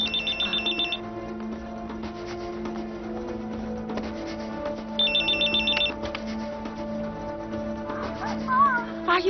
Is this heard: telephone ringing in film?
yes